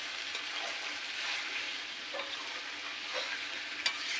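Malabar spinach and stalk curry bubbles and sizzles in a pan with water just added, a soft, steady frying hiss with light stirring scrapes and a small clink near the end, fairly quiet and close.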